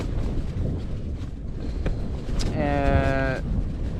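Strong wind with gusts up to 60 km/h roars and buffets the microphone in a continuous rushing wash, with a brief thin tonal whine partway through.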